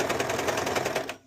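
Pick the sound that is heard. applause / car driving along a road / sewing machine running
sewing machine running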